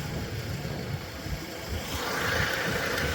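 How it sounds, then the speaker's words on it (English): A car engine idles with a steady low rumble and broadband hiss, constant throughout with a slight swell toward the end, no voices over it. "Why are we idling the engine?"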